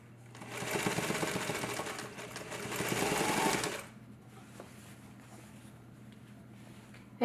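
Sewing machine stitching a tote bag: two close, fast mechanical runs of rattling stitches with a brief pause between, then the motor stops and only quiet room sound remains.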